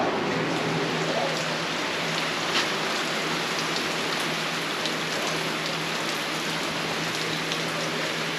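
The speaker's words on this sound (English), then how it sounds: "we got plenty of rain" Steady, dense rain falls on a farm on a warm June day, a constant close hiss of drops on surfaces that continues evenly throughout with no voices.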